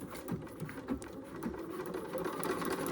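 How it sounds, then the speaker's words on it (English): Sewing machine stitching along a printed line on foundation paper while piecing flying geese quilt blocks, a steady close whirring hum with rapid needle clatter running continuously. "I'm going to carefully stitch right along that line there."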